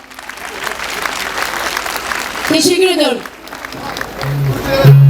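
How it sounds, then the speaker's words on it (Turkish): Concert crowd applause at a Turkish folk music concert in Maltepe, sustained loud clapping and cheering with a voice speaking briefly over it midway. "Emeği burada bütün emekçi dostlara kocaman alkış istiyorum"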